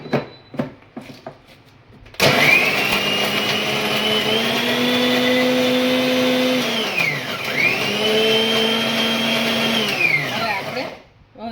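A mixer grinder grinding ginger, garlic and peanuts with a little water whirs loudly for several seconds, pauses briefly, then whirs again before stopping, with a few clinks and murmurs around it.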